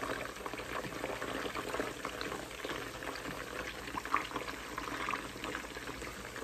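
Fish frying in spiced oil in a pan, a steady, dense sizzle that stays even and unbroken throughout at moderate loudness, with no talking.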